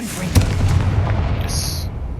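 A Confringo fire spell bursts in the Hogwarts Legacy video game, a sharp blast followed by a rumbling, crackling roar over a low background drone, ending with a brief high whine.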